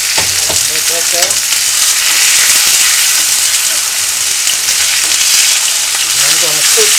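Seasoned chicken, salted and peppered on one side, sizzles loudly in a hot skillet, a constant dense crackling hiss close by with occasional faint clinks and no speech.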